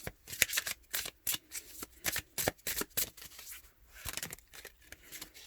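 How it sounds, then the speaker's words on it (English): A deck of chakra cards being shuffled, with a quick series of crisp riffling bursts, some short pauses, and a second run of shuffles that stays near and moderately loud. "Let's try some of these chakra cards here."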